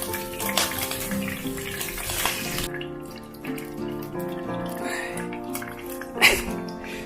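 Crucian carp sizzles in hot oil in a home kitchen, a steady hiss and crackle running through the whole stretch with a few louder pops, while someone talks over it.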